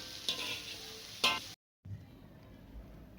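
Pickled jackfruit husks (mandai) stir-fried in a pan, a steady frying hiss broken by a couple of louder scraping stirs, then a short silence and a quieter sizzle before a final clatter.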